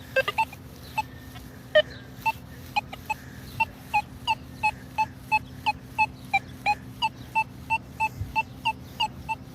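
A metal detector signals on a coin with a rapid series of short, evenly spaced electronic beeps, close and fairly loud, repeating steadily with a faint hum beneath and no speech.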